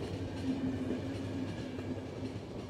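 A train from the video game The Final Station rumbles along at a steady pace, with a continuous low mechanical drone and faint rhythmic rattle, close and even.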